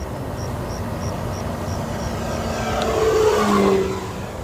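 An E-Flite Carbon-Z T-28 Trojan 2.0m RC plane with a landing gear mod makes a low pass, its electric motor whine steady at first, then swelling and shifting pitch as it sweeps close by.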